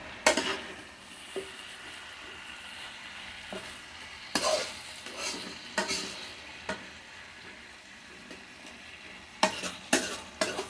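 Pakbet, an Ilocano vegetable dish, being stirred and sautéed in a pan, with a steady low sizzle and scattered scraping and clinking strokes of a utensil against the pan.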